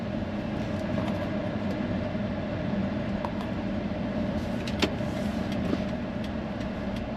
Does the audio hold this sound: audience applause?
no